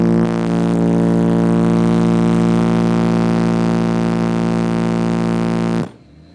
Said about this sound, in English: That was revving at 1500 RPM.